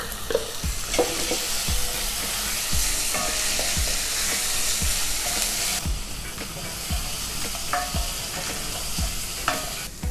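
Translucent onions with a ginger garlic mix frying in a pan for a Middle Eastern dal, a loud close sizzle with rhythmic thuds and scrapes of a utensil stirring, no voices.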